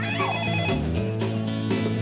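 A telephone rings in a 1990s caller ID TV commercial, a steady electronic ring repeating in pulses, loud and up front, with no voices over it.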